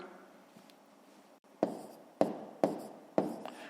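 A pen writes numbers for a column subtraction in a fifth-grade maths exercise: faint scratching, then four sharp, close strokes at a steady pace, with no voices.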